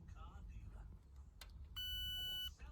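A continuity tester beeps while car audio is wired into a Mk5 Supra, one sustained electronic tone lasting under a second after a brief click, over quiet background noise.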